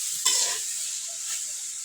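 Cabbage being sautéed with masala in a pan, a short burst of sizzle and a single scrape of the spatula followed by a softer steady hiss, close and brief with no talk.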